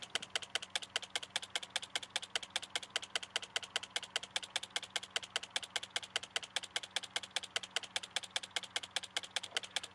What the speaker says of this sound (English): That is slow typing.